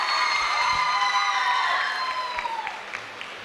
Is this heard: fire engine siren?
no